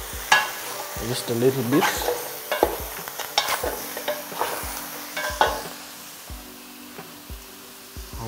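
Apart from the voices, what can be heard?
stirring boiling kienyeji chicken with ginger and garlic in a pot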